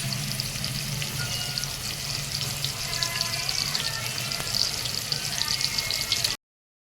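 Tomatoes frying in a pan for dry mutton curry give a continuous, close sizzle with faint stirring, then it cuts off abruptly near the end.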